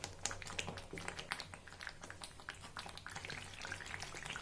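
Oil bubbling up through tomato pickle cooking in a pan on a gas stove, a steady close sizzle and crackle with quick tapping pops throughout.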